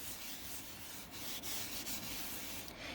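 A plastic embossing buddy powder tool is rubbed back and forth over cardstock for a paper card, giving a soft, steady brushing friction that runs throughout, close and quiet with no voices.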